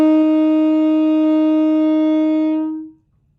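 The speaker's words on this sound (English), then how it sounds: "And lastly, the 4th note that we'll use is going to be our C." A saxophone holds one C, fingered with the left middle finger, for nearly three seconds, steady, clear and close, then stops, with no voices.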